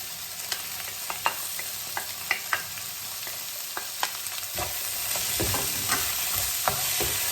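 Ivy gourd and onions are stirred in a pan while cooking without oil, salted and dusted with turmeric, giving a steady soft sizzle broken by repeated sharp scraping clicks of the spoon, close and without any talk.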